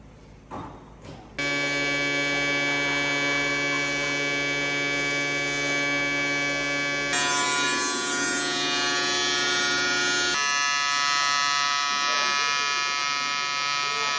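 An Everlast Typhoon 500 TIG welder working on a billet block gives a steady, loud electric buzz with strong tonal hum that changes character partway through, close by, after a brief moment of voices at the start.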